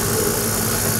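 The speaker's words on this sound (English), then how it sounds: "Can you hear the pump running?" Vacuum pump of a sputter coating machine running in a lab, a loud, steady, dense mechanical drone with even broadband hum and no pauses or talking.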